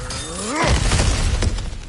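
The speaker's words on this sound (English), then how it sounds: "back to smashing through things for fun and profit" Objects smashing and shattering in God of War Ragnarok: a rising creak gives way to a loud crash, followed by a dense burst of breaking debris and clattering pieces that fades out over about a second.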